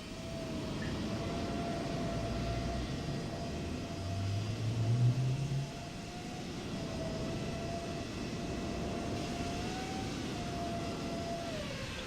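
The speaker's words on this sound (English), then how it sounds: "get that engine turned on now" A PMDG Boeing 777-200ER engine spools up in Microsoft Flight Simulator 2024, a steady low rumble with a sustained whine that rises gradually and holds throughout, with no voices.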